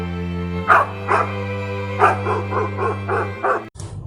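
A dog gives a string of about eight sharp yipping barks in an uneven rhythm, close and clear over a steady low background hum, ending abruptly.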